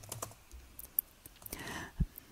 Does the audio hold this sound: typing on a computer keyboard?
yes